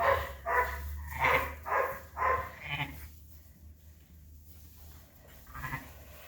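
A run of five or six close, loud bleats in quick succession, then a quiet pause before one more bleat near the end.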